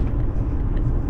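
Steady low road rumble and engine drone inside a moving car, continuous and fairly loud, with no voices.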